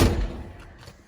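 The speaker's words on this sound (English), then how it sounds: "Really heavy drawer." A heavy drawer packed with sockets and wrenches closing in a large Snap-on TUV toolbox, one loud close thud at the start that decays quickly into quiet.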